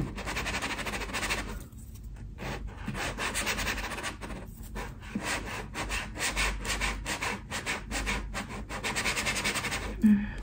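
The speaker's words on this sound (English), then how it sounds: "Why don't we try sand it out?" Sanding or rubbing strokes in an ASMR eye-fixing roleplay, a steady close-up abrasive scratching that runs in repeated bursts with brief pauses, quiet and intimate with no talk.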